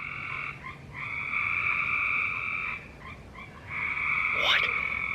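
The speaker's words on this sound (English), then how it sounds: "That's a lot of frogs." Many frogs croak together at night, a dense chorus of loud, close, buzzing pulses. They come in long overlapping bursts with short pauses between, and a brief higher call cuts in near the end.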